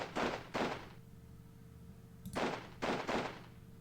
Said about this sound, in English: Let's fire with our rifles on this